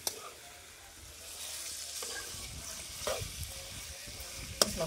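Chicken being stirred and fried in a pan over a wood-fire stove, a steady low sizzle with occasional scraping and clinks of the utensil, fairly faint and without talk.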